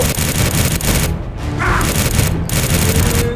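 Heavy gunfire in a World War-era zombie shooter game: a dense, loud, unbroken barrage of overlapping shots and booms.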